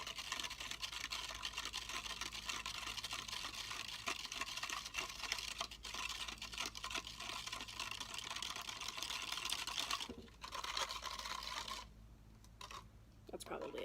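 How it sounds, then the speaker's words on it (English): A spoon stirs borax into water in a cup, mixing until it dissolves for homemade bouncy balls, giving a steady, close scraping and clinking that runs nearly the whole time before thinning out near the end. "And then we're going to mix that up until the borax dissolves."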